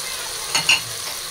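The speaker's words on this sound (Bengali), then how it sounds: "এই তো আমি এগুলোকে একটু নাড়াচাড়া করে দিচ্ছি" Spices for chicken gravy frying in a pan are stirred, giving a steady background sizzle with two brief, sharper scraping strokes near the middle.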